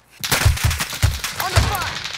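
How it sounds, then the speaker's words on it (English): Gunfire in the video game Warzone: a rapid string of sharp shots in quick bursts, loud and close, with a voice heard faintly alongside. "Under fire."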